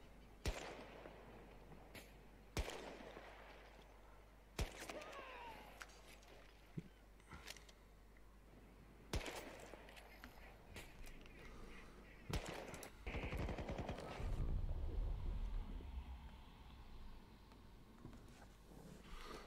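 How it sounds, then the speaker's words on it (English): Scattered gunshots and bursts of machine gun fire in a poorly rated video game, sharp reports spaced irregularly every couple of seconds, moderately quiet, with a rumbling stretch of noise between them and no talk. "Here we are, some more of the gunshots."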